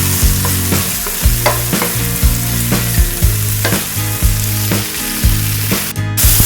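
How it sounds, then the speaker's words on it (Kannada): Onion and tomato frying and being stirred in a pan for a winged bean curry, with a steady loud sizzle and regular scraping strokes of the spoon close by and no talking. "ನೆಕ್ಸ್ಟ್ 1 ಕಪ್ ಟೊಮೆಟೊ ನೇನಿತ್ತೆ ಎಡ್ಡೆ ಫ್ರೈ ಮಾಡ್ತೇವೆ."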